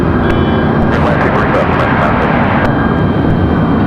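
An airplane passes at RDU Raleigh Durham International Airport, a loud, close, continuous engine roar filling the whole moment, with voices talking underneath.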